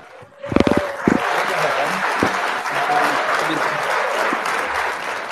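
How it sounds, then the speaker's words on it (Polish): An audience claps in a steady, sustained round of applause that starts abruptly and fills the whole stretch, with a few louder claps near the start. "wygrał ksiądz Sebastian, więc kolejne oklaski dla niego."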